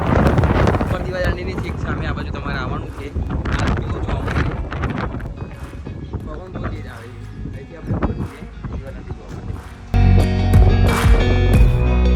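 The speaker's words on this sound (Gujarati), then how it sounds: "પવન બહુ તેજ ફૂંકાય છે" Strong wind buffets the microphone in loud, rumbling gusts throughout at Diu Fort, with a harsher, louder blast near the end; voices may be faintly present underneath.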